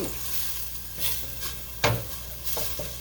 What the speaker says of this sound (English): And you just want to cook these onions until they're, I don't know, translucent.